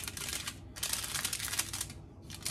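Aluminium foil being folded into a small baking pan for keto shortbread fingers, a close, bright crinkling and crackling in two longer bursts with a short pause and then a third, no talk.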